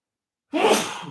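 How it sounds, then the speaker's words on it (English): A person sneezes once: a sudden sharp burst after a moment of silence, close and loud, trailing off into a breathy exhale. "I was waiting for that sneeze for a little while there"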